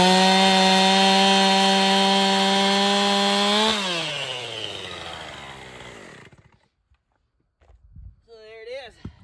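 A Stihl chainsaw fitted to an Alaskan mill rips lengthwise through a log to cut boards, its loud, steady high-revving drone dropping in pitch and winding down to a stop, followed by a brief quiet and a short voiced sound.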